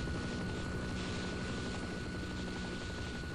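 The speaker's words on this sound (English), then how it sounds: "I'm so nervous about this helicopter here." Helicopter in the Half-Life: Opposing Force video game, a steady droning rotor and engine hum that runs unbroken and fairly faint with no talk.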